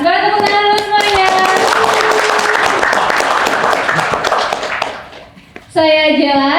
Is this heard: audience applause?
yes